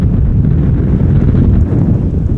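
A strong crosswind at Amsterdam Schiphol Airport buffets the microphone, making a loud, continuous low rumble that roars without pause.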